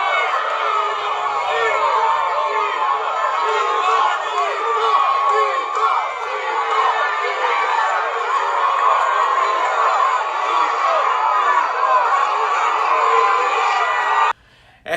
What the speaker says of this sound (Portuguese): o presidente chegou à Basílica e foi aplaudido por milhares de pessoas aos gritos de